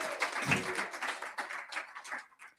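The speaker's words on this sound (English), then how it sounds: "Let's give another round of applause for the hearts behind this vision." Quiet audience applause at a book launch, a soft, scattered patter of clapping that thins out and fades toward the end.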